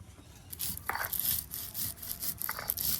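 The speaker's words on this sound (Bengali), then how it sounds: "এই গোটা জিরে আর গোটা ধনিয়া আমি বেটে নেব" Whole cumin and coriander seeds are ground by hand into a spice paste for a fish curry, giving a steady, rhythmic scraping and rubbing that sounds close and moderately loud.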